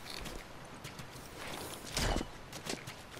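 Slow hoof clip-clops of a horse walking in the video game The Last of Us, faint and uneven over a low ambient bed, with one louder thud partway through.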